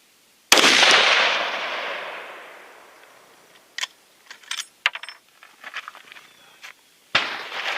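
A single loud rifle shot from a Ruger Guide Gun chambered in .416 Ruger cracks sharply and rings out in a long decaying echo across an outdoor range, followed by scattered clinks and handling noises.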